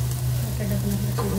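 Potatoes fry in a pan, giving a close, continuous sizzle with a low steady hum beneath it and no speech.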